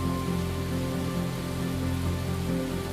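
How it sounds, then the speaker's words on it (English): Cold rain pattering steadily on a falcon nest on a Philadelphia city ledge, a dense, even hiss of drops close by with no voices. "cold rain can become dangerous very quickly"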